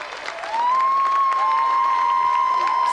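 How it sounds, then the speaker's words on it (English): Studio audience applause swells in after a brief quieter moment and holds as a dense, sustained clapping, with a bright electronic tone ringing steadily over the top. "let's have another round of applause"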